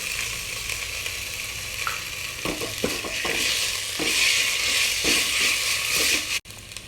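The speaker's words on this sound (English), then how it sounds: "After that, add ginger garlic paste to it and fry it." Ginger garlic paste frying with coconut and onions for dalcha, a bright steady sizzle up close with several scraping stirs in the middle, ending in a sudden brief cut.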